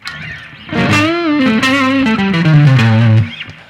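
Electric guitar played through a blues rock distortion amp preset in Ableton, a loud, close, gritty sustained line of bending notes that rings out and then stops abruptly, with no talking.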